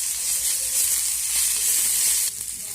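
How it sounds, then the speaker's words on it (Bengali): Pointed gourd pulp, onion and turmeric sizzle steadily in a hot pan while being stirred, with a dense continuous frying hiss and soft scraping throughout. "এখন আমি সব কিছু ভালো করে নেড়ে চেড়ে ভেজে নেব"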